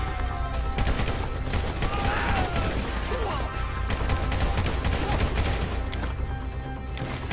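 Gunfire in Grand Theft Auto 5 rattles out in rapid, dense bursts, loud and close, continuing almost without a break through the whole stretch.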